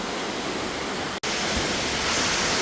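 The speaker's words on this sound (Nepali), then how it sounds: "ल फाइनल्ली हामी सुनसरी झरनामा, रोल्पाको एउटा चिनारी, यस्तो राम्रो ठाउँमा छौँ हामी" Sunsari waterfall in Rolpa, Nepal roars as a dense, steady wash of falling water, loud and close, with one split-second dropout partway through.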